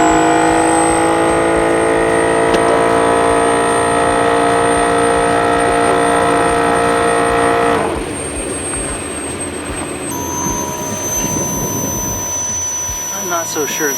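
A Bulldog air compressor runs loud and steady with a strained, abnormal noise, a high whine over a heavy drone that shifts roughly partway through into a rougher, rattling tone.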